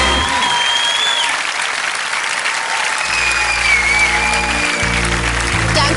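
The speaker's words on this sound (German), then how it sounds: "Martin, Standing Ovations, schau mal" Studio audience giving a standing ovation at a TV talent show farewell, with loud, dense, continuous clapping throughout and faint voices underneath.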